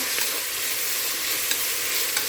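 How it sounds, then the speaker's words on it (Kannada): Tomato, coriander, curry leaves and green chilli fry for mutton sukka in a pan, giving a steady, close bright sizzle with occasional small crackles and light stirring, no voices. "ಇದು ಸ್ವಲ್ಪ ಹೊತ್ತು ಫ್ರೈ ಆಗಲಿ"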